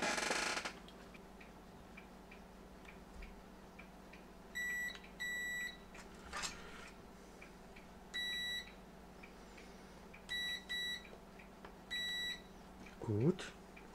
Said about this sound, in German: Piepser, nochmal piepsen.